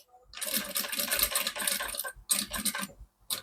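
A sewing machine runs in short bursts while stitching a seam on a pencil case, close up, with brief pauses between runs.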